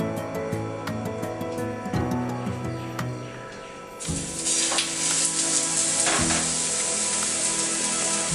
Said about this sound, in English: Now the sizzling sound is reduced, so that means one side is cooked.